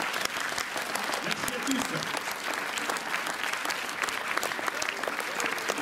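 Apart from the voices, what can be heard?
audience applauding the guests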